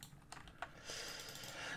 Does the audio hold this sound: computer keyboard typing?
yes